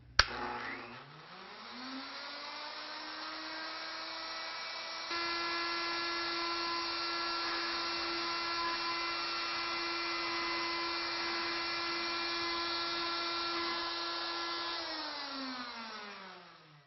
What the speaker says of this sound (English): we're simply going to rotate the stock as we bring the router over center to cut this end.